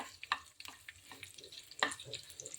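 Dried red chillies drop into hot oil in a home kitchen and crackle with a faint, brief sizzle, broken by a few light stirring clicks.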